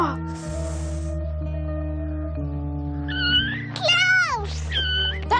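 A kitten lets out two or three high, wavering meows near the end, fairly close, over a steady low tonal backdrop.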